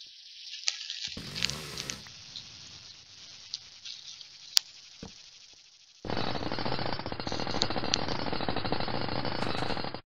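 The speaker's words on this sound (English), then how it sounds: "No, it's actually just a drill. It's just a really badass drill. This is my favorite drill in GT6." A power drill in the video game Gran Turismo 6 opens with scattered clicks and a short whir, then breaks into a loud, continuous rattling buzz for the last few seconds.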